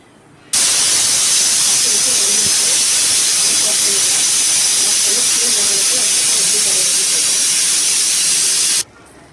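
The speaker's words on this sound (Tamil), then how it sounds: "மூடி போட்டு எட்டுலேருந்து பத்து விசில் மீடியம் ஃப்ளேமில் விட்டுக்கலாம்" A pressure cooker cooking horse gram lets out one loud, steady hissing steam whistle lasting about eight seconds, starting and stopping abruptly.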